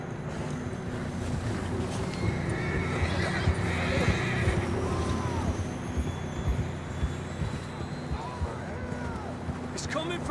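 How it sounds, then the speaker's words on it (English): Horses neigh and whinny in Red Dead Redemption 2, with hoofbeats clopping beneath a steady low rumble of wind and ambience, moderately close and continuous through the scene. "I don't think we can go much further on the horses."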